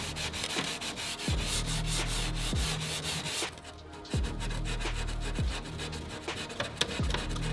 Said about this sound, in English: so I think we sand a little bit more off